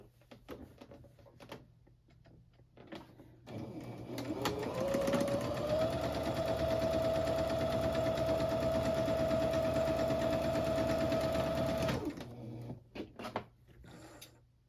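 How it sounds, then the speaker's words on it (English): A sewing machine runs a steady, continuous stitching burst of about eight seconds along a seam at a tight stitch length, starting and stopping cleanly with quiet handling noises before and after. "I'm going to go to my sewing machine now and I'm going to stitch that at a tighter stitch length"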